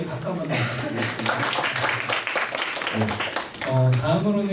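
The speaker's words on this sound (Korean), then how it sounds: "저희 레이더 선생님께 박수 한번 부탁드리겠습니다" Audience applause for a teacher at an academy information session, a dense, steady wash of clapping from a seated crowd with a voice speaking over it, then a host's voice near the end.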